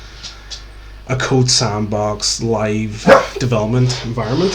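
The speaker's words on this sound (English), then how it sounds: "if you hear barking in the background, there's a dog here" A dog barks in the background while a person talks steadily over it, the barks faint and partly masked by the speech.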